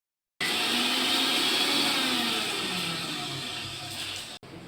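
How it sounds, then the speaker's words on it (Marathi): An electric kitchen mixer grinder grinds spice masala with a steady, loud motor whir that starts abruptly and holds evenly for about four seconds before briefly cutting out. "ते काढायचं आहे आता मिक्सरमध्ये"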